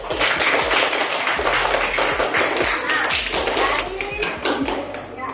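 Applause from an audience at a class group presentation, a steady dense patter of many hands clapping close by that lasts throughout, with a voice speaking over it.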